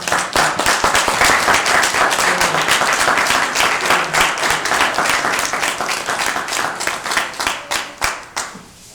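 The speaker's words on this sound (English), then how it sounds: "Y'all should give Lenore a round of applause." Audience applause for Lenore at a talk in Denver: steady, full clapping from a crowd for about eight seconds, turning into looser rhythmic claps before it trails off.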